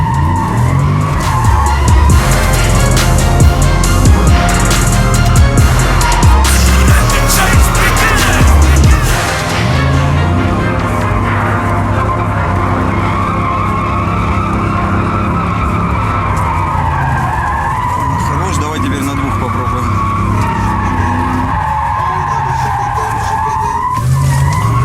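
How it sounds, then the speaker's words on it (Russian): A large Chevrolet Tahoe SUV slides sideways in a drift. Its tires squeal loudly and continuously over a straining engine roar, close and sustained throughout. "Мы едем боком на огромном внедорожнике."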